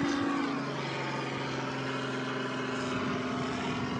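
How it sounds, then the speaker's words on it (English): Helicopter flying overhead near a beach, a steady droning rotor and engine hum that stays constant throughout, with no speech. "Oh, there's a helicopter."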